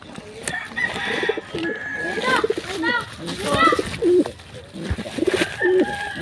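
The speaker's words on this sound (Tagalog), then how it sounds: "Ito po ang isa po ang kalapati po." Red bar German Beauty Homer pigeons coo in soft, throaty bursts close by, mixed with rustling and a person talking over them.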